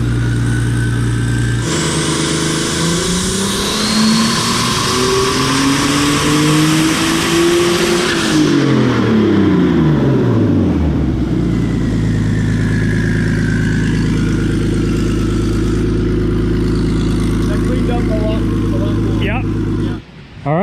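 A ZKart go-kart engine on a dyno screams through a full pull, revs climbing steadily to a loud peak then sweeping down and settling into a rough idle, very close and dominant throughout.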